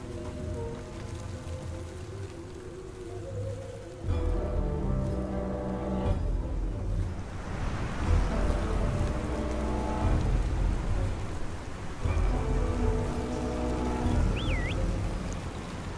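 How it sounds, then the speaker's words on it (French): Stormy rain in the Herdling video game, a steady wash of heavy rainfall that builds and stays loud across the whole stretch, with deep rumbling beneath and game music layered over it. "C'est la tempête."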